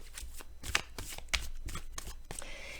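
Rapid riffling shuffles of tarot cards, several quick bursts of cards flicking together in close succession, recorded close up with no voices.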